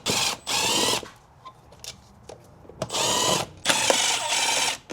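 Power driver backing out T25 Torx screws from a turbocharged car's airbox, two bursts of whirring with clicking, then a pause with small handling noises before two more bursts, close and fairly loud with no talking.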